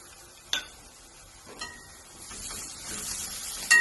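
Crushed garlic fries in hot oil for a brinjal curry, giving a soft, continuous sizzle with a few clicks and scrapes of stirring.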